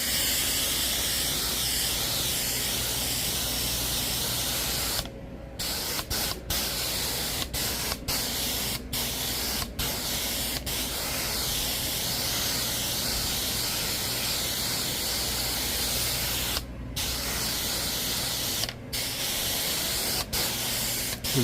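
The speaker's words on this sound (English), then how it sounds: "Just getting some pre-spray down." Carpet cleaning pre-spray hisses steadily onto restaurant carpet, a loud continuous spray broken by a few brief pauses and short gaps across the run.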